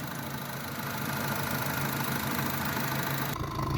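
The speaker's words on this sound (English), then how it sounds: "with the motor running" A 2015 Honda Civic engine runs at idle, giving a steady, close mechanical hum and rumble with no pauses that holds for the whole stretch, alone without voices.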